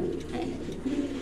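A racing pigeon cooing up close, a low continuous throaty coo that rises briefly near the end, heard alone without talk.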